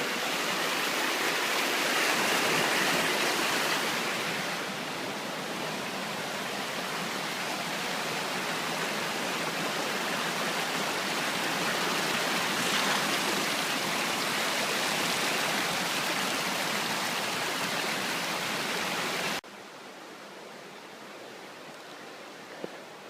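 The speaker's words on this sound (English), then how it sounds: "The trail for the last mile was a creek, but just like this, incredibly rocky." A rocky mountain creek rushes along a trail toward Mt. Marcy, a steady broadband roar of flowing water close by that cuts away to quieter ambience near the end.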